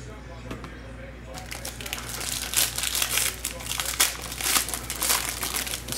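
Crinkling and tearing of a Donruss basketball hobby card pack being ripped open, a dense run of crackly foil rustles that grows louder and busier after the first second, with a steady low hum underneath.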